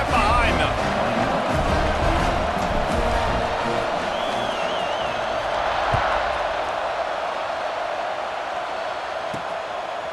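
A stadium crowd in EA Sports College Football 26 roars and cheers as a continuous loud swell, with a commentator talking over it.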